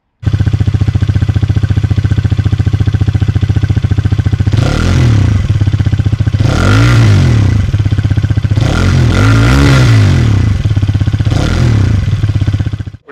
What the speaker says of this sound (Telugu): ఇప్పుడు మనం బైక్ని రైడ్ చేద్దాం